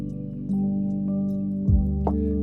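A sleepy lo-fi beat with its drums entering at the first drop: a sustained mellow chord bed with soft rhythmic hits and a low thump partway through, steady and moderately loud, no voices.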